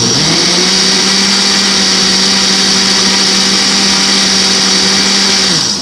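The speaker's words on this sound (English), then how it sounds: "I have on my blender, it's got a smoothie program" A blender runs a smoothie program loudly and steadily at high speed, a constant motor whine with a strong hum that holds throughout before easing slightly at the end.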